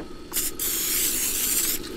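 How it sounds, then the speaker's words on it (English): Oil sprayed from a spray bottle onto a lotus leaf for sticky rice chicken dumplings, a short hiss burst followed by a longer steady spray lasting over a second, close and alone. "I'm going to be spray some little bit oil in the leaf."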